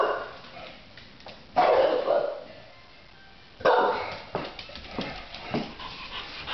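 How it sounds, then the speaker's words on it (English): Dog barks in a few loud bursts near the mic, with quieter whimpers and shuffling between them, indoors at home with bully-breed dogs. "It's just Doc barking."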